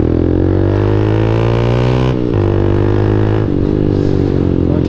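A motorcycle riding through city streets, its exhaust a loud, close, steady droning rumble with engine tone shifting slightly as the throttle changes, plus wind and road noise.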